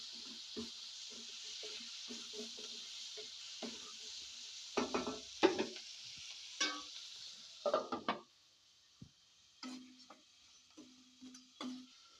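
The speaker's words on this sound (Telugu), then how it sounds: "మునక్కాయ ముక్కలు కొంచెం పచ్చివాసన పోయిన తర్వాత ఇప్పుడు టమాటాలు వేసుకుందాం" Tomatoes go into a pan of frying onions and drumstick (moringa) pieces for a curry and are stirred, giving a steady soft sizzle broken by scattered spoon scrapes and clinks against the pot, with no talking.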